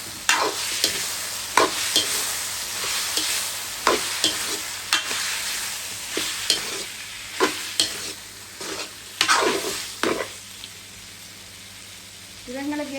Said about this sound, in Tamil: இதையும் வடிவாக இருக்க கிளறி விடுவோம்